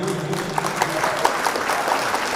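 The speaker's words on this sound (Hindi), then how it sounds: "इनके लिए तालियां" An audience at an Urdu mushaira breaks into applause, a steady, dense patter of clapping with individual sharp claps standing out, heard up close and at a moderate level, with no voices over it.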